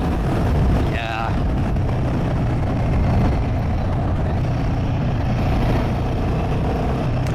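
A Royal Enfield Guerrilla 450 motorcycle rides along with a steady engine drone mixed with wind rush, a continuous near rumble heard under a rider's talk.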